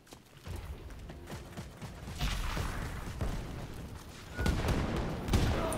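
Gunfire and mechanical combat noise in the video game Wolfenstein: Youngblood, with bursts of shots, clanks and booms building in loudness across the stretch.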